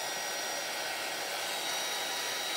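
A heat gun blowing a steady, loud, unbroken hiss of hot air while hot embossing small labels, with no talk over it.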